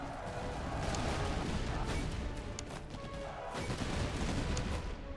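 A musket volley fired at British foot guards in the Master of Command video game, a dense crackling spread of shots and bangs forming a sustained, loud fusillade with no pause.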